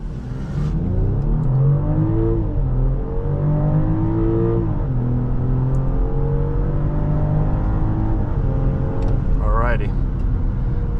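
A 2024 BMW X7 xDrive40i pulls away hard from a standstill in sport mode, its engine note climbing steadily through rising harmonics and shifting pitch as it accelerates, loud and continuous from inside the cabin.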